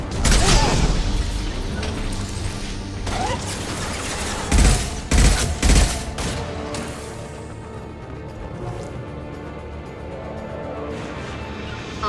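A Mass Effect 2 combat scene brings bursts of gunfire, heavy impacts and clustered booming blasts, loud near the start and midway, then easing into quieter ambience with occasional voices.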